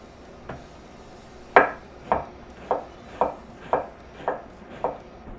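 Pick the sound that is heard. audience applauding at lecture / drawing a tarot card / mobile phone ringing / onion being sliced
onion being sliced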